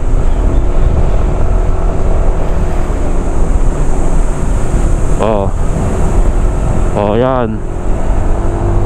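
Yamaha NMAX scooter with turbo accelerating uphill: a steady, loud engine and wind-buffeted drone throughout, with a rider's voice briefly speaking over it near the end.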